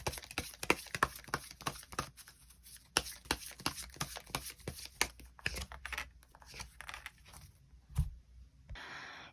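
Tarot cards are shuffled and drawn, giving a quick run of sharp riffling clicks and papery slaps, close up, that fade into quieter handling and a near-silent stretch at the end.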